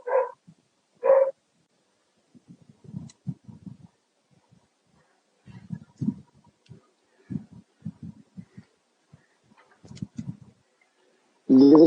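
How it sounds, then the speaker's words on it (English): A dog barks in two quick loud bursts at the start and again at the end, during an online panel discussion, with soft muffled talk in between. "I think my dog really agrees because he's yelling"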